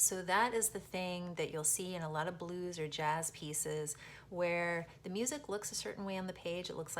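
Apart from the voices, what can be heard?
No everyday noise stands out behind the speech.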